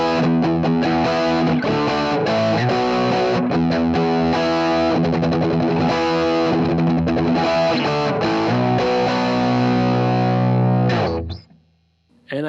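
Electric guitar played through an FM3 modeler's Super Lead treble amp model into a 4x12 1960 300-watt cabinet miked with a 57, giving loud, continuous distorted chords and riffs for about eleven seconds before cutting off abruptly.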